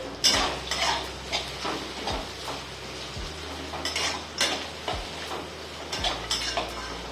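A spatula scrapes and taps rhythmically against a pan while potato, turmeric, salt and a little sugar are sautéed for Nagpur-style tarri poha. Regular metallic knocks land about once a second over a soft sizzle, close up, with no talking.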